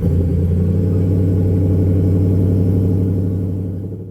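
A supercharged 5.2-liter V8 in a 2023 Ford F-150 Raptor R rumbles steadily and loudly at a low, even idle, then fades slightly toward the end, with no talking.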